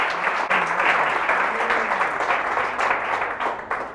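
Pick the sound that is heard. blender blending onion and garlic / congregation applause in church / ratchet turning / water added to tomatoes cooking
congregation applause in church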